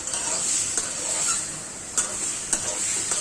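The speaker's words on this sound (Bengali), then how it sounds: "এখন কচুগুলা ঢেলে দিব, দেওয়ার পরে একটু নেড়ে চেড়ে নিব" Taro stirred into oil-sheened, spiced masala in a pan for a Bengali hilsa curry: a steady close sizzle with a few sharp scraping strokes of the spatula, no voices.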